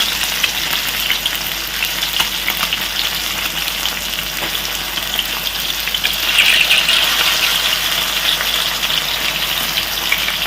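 Fish fries in hot oil with a loud, steady sizzle and crackle that holds all the way through and swells a little near the end, with no talking.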